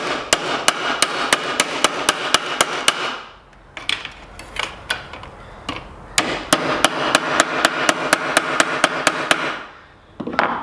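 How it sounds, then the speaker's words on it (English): A hammer knocks bumped-up protrusions flat on a strip of aluminum window trim from a G-body car door, sharp metallic blows in quick regular bursts separated by a brief pause, close and loud. "just take a hammer and flatten these down, because they're just a bumped up protrusion"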